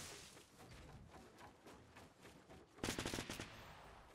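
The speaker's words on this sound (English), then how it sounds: "That was him accidentally shooting." Quiet Fortnite video game gunfire, with a soft stretch of faint shots, then a sharp, louder burst of rapid automatic fire near the end.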